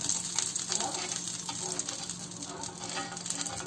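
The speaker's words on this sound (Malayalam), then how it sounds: "ഒരു 1/2 ടേബിൾ സ്പൂൺ നമ്മുടെ നെയ്യ് ഒന്ന് പുരട്ടിയിട്ട് അതെല്ലാ ഭാഗത്തേക്കും ഒന്ന് എത്തിക്കുക" Ghee sizzles on a hot griddle, a close, steady crackling fry with bubbling texture that holds evenly throughout without pause.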